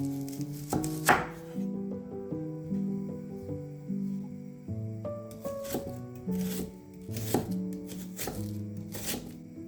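An onion being chopped on a board: steady, soft knife thunks that repeat under louder tonal background music, with no speech.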